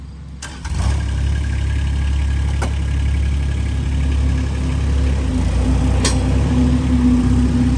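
A 2022 Sany SY16C mini excavator's engine cranks and catches, then settles into a steady, loud low rumbling idle, with a few faint clicks over the running engine.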